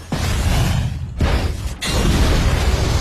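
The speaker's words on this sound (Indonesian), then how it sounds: "Kapal itu pun meledak." A ship explodes in a film with a series of three heavy, rumbling blasts in quick succession, each loud and booming with a short gap before the next.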